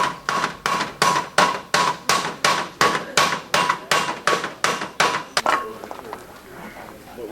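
A rapid, even series of ringing hand-hammer strikes closing a copper roof seam lock, loud and close, stopping after a dozen or so and fading into quieter room noise.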